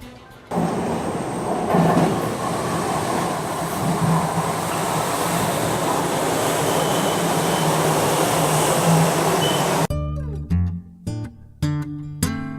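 A Metro Rail train in downtown Miami's Overtown roars loudly and steadily for about nine seconds, then gives way to rhythmic clanks and thumps of the cars passing over the rails.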